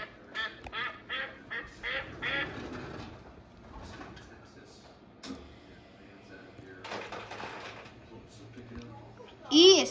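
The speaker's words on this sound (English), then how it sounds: "D is for duck." A duck quacks in a series of short, nasal calls at a zoo, mixed with voices, with a louder honking call near the end.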